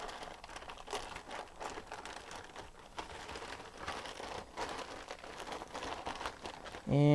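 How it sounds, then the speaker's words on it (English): A plastic bag around a Sony Ericsson X10 Mini phone package being ripped open, heard as a continuous close crinkling and tearing rustle that ends with a brief voiced sound. "let's go ahead and rip this bag open"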